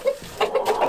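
Farmyard chickens and roosters clucking close by, a quick string of short throaty clucks and chirps from several birds.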